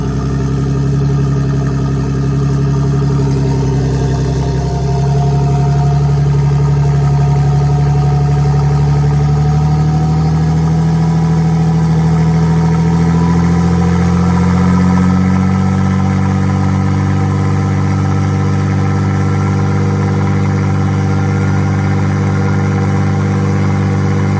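A V6 bi-turbo rear-wheel-drive Mini engine idles loudly up close, its hum rising in pitch as it revs up and holds high, then settles back toward a steady idle.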